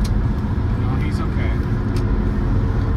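A car cruises at about 70 km/h on an American highway, a steady low road and engine rumble with tyre noise, heard from inside the cabin while someone talks over it.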